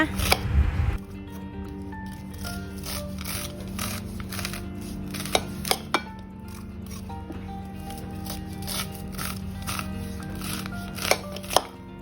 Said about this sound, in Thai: จะหั่นข้าวโพดก่อนนะคะ